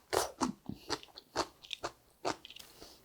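Crunchy raw radish and yam are chewed in close, crisp bites, about ten sharp crunches in an irregular rhythm, loud and intimate with no talking.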